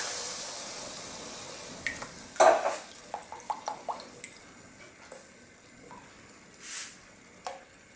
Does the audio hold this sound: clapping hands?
no